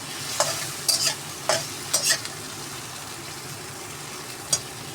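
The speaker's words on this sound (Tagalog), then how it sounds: "Ginisa ko yung kamatis sa garlic, guys." Tomatoes and garlic sauté in a pan with a steady low sizzle, while a spatula knocks and scrapes in a quick cluster of clicks early on, then goes quiet until one last tap near the end; close, no talking.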